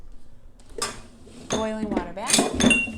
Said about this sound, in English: Use my jar lifter to take my hot sterilized jars out of the